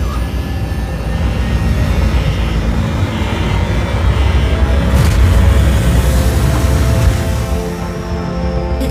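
An aircraft lands at a tower in the video game Ares: Rise of Guardians, a loud, steady engine roar that holds throughout with a slight surge midway.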